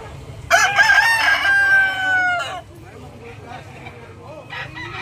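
A Buyogon rooster lets out one loud, close crow lasting about two seconds, followed by quieter clucks and background chatter from a bird market stall.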